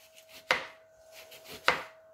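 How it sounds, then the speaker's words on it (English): Two sharp knife chops strike a cutting board about a second apart as oranges are cut, close and crisp, with soft slicing sounds between. "So I'm gonna be chopping the oranges as well."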